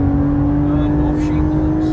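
A Porsche 992.2 Carrera on the Autobahn, its engine droning steadily after a downshift with a sustained tonal hum, loud and close inside the cabin.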